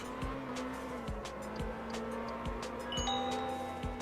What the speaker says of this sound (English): Figured I might as well do one drift at least.